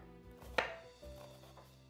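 A knife chops finely minced onion on a cutting board with two sharp, close knocks, the first louder, in an otherwise quiet kitchen.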